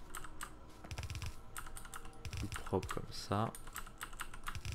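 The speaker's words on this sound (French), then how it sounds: "désolé pour le bruit du clavier sur le coup." Computer keyboard typing in quick bursts of clicks during a Factorio gaming session, close and fairly loud, with someone speaking briefly over the keys.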